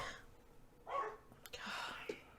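Faint dog barks in the background, a couple of short yips amid low room noise and some quiet murmuring.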